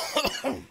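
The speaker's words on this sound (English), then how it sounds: "coughing into the mic the whole time" A single person coughs close into a microphone, two quick harsh bursts in under a second, loud and dry with no talking around them.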